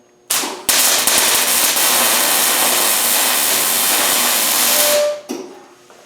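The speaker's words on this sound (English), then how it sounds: "We're going to weld the back side of that leaf on there." A welder's steady, crackling arc fusing the back side of a forged steel leaf onto a small oak branch with acorns: a loud, continuous buzzing hiss that holds for about five seconds, then cuts off, with brief sputters at the start and end.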